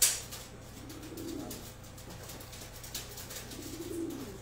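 Racing pigeons at a live bidding event, giving low, soft cooing sounds that murmur steadily in the background with a few faint rises. No one speaks, and the cooing stays quiet and somewhat distant.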